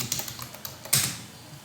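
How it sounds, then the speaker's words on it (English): Fingers typing on a computer keyboard, a quick run of light clicking keystrokes in uneven rhythm ending with a louder key press, close and otherwise quiet. "So I will start typing this."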